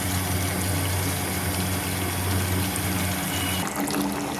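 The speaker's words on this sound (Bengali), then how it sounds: "দেখো অল্প পরিমাণে একটু জল দিয়ে দিলাম।" Steady pour of a little water into a pan of chicken kasha, a continuous wet rushing that runs throughout with a shift near the end.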